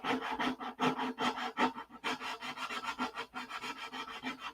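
Hand sanding on a model P-47 airplane gives quick rhythmic back-and-forth rasping strokes, close and steady, with brief pauses between bursts.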